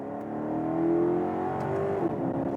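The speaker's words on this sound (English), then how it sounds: "if I downshift a couple times using these paddles" The Ferrari V8 in a 2019 Maserati GranTurismo Convertible MC growls and rises in pitch on paddle downshifts, a close, throaty engine note that climbs and then drops sharply.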